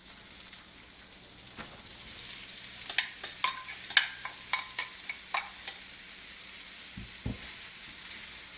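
Curry leaves sizzle in hot oil for a prawn masala, with a quiet steady fry, a run of sharp pops and spatters in the middle and a couple of low knocks of stirring near the end.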